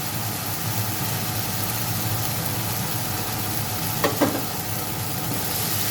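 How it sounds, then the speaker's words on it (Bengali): Chili powder, Kashmiri chili powder and turmeric fry in oil in a pan, giving a steady close sizzle throughout with a brief scrape of stirring near the end. "দিয়ে আমি মশলাটাকে ভালো করে কষিয়ে নেব।"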